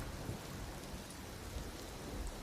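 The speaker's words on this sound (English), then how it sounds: "Can't see as far due to the rain." Steady rain hisses continuously in the video game Empyrion Galactic Survival, with low thunder rumbling underneath, even and close throughout.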